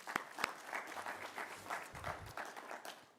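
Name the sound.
audience applause after a presentation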